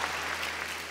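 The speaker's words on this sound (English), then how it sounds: "you should applaud at that" An audience at a live talk event applauds in a steady, dense wash of clapping that fills the short moment evenly, with no voices standing out.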